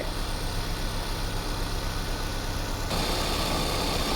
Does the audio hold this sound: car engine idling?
yes